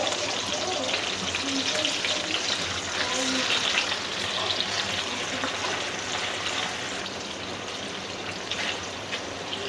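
Fish frying in hot oil in a pan, a dense, steady sizzle and crackle of spattering oil that runs loud and close throughout, with no talk.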